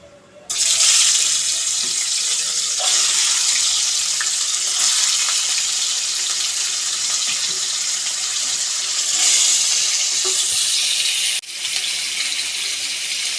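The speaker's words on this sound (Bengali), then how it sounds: "মাছগুলো একটু লাল লাল করে ভেজে নেব" Fish fry in a pan until reddish brown, giving a loud, steady hiss broken by faint crackles. It plays alone without talk, starting abruptly and dipping briefly near the end.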